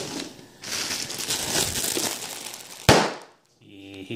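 Loud crunching and crackling of air bubble packing being squeezed, ending in a sharp pop, then a brief quiet and a faint hum.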